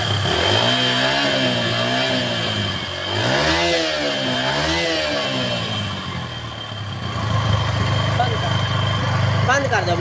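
A Yamaha YBZ motorcycle engine revs up and down close by in two or three swelling bursts, then settles back toward idle, with someone speaking Hindi over it.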